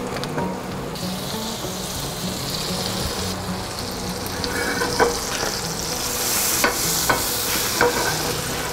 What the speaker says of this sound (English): We're gonna add probably a good tablespoon of olive oil. And this little nub of butter is probably a tablespoon and a half.